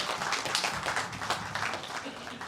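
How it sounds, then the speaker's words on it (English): A lecture audience applauds a talk on Hinduism, a dense, continuous patter of clapping with speech mixed underneath. "Big round of applause"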